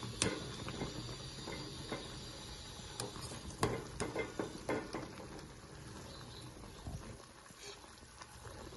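Wild boar meat boils in a pot while a spoon stirs it. Quiet bubbling and simmering run under a series of soft scrapes and knocks against the pot, fairly faint, with no talking.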